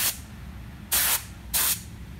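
ATP-641 coating sprayed from a can in three short, close hissing bursts, the first fading in at the start and the other two clean and evenly spaced, with no voices.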